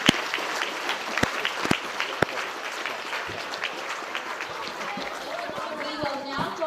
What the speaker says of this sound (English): please join me in giving President Tsai another round of applause